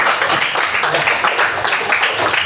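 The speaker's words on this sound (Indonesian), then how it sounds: "Baik, tepuk tangan dulu." Classroom of students clapping together in steady, close applause, a dense run of hand claps at even loudness throughout with no pause.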